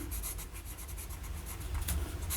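Broad-nib Lamy Safari fountain pen scratching across paper, a close, soft continuous rasp with quick rhythmic strokes, alone with no voices.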